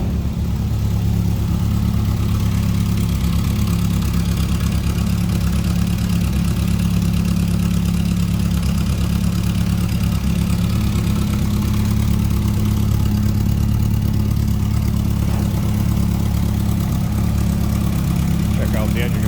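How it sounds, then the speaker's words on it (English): A 1972 Volkswagen Beetle with an era-correct 1600 cc AE-block engine idles steadily from close behind the car, a loud, even air-cooled burble that runs unbroken throughout. "Slip around to the rear of this so you hear it run."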